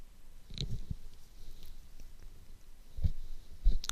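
A computer mouse clicks a few times, sharp and isolated, while someone configures a security policy in Windows. The soft taps are spaced across a quiet room with no speech.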